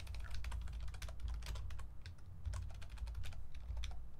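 Rapid typing on a computer keyboard during a Minecraft session, a dense run of close, crisp key clicks and clacks over a low background hum, with no talk.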